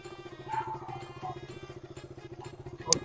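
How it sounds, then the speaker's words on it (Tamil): A KTM motorcycle idles as it prepares to set off. Its quiet engine pulses in an even, rapid rhythm, and a sharp click sounds near the end. "இந்த வண்டி இங்கே நிறுத்திட்டு நம்ம கேடிஎம்ல கிளம்பலாம்"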